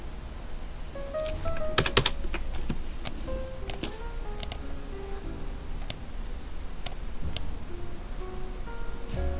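Scattered computer keyboard key presses, light crisp taps in irregular clusters while the Alt key is used to copy, close by over a steady low background hum.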